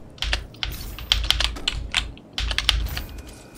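Computer keyboard typing during a Doom 2016 play session: bursts of rapid key clicks with short pauses between, fairly close and prominent, no voices.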